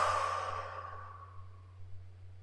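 Deep exhalation during a breathing exercise, one long close breathy sigh that fades out over a steady low hum.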